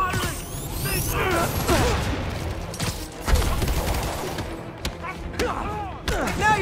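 Gunfire fills a combat scene in Marvel's Spider-Man Remastered on PS5, with dense bursts of shots, crashes and mechanical clatter layered together, loud and continuous.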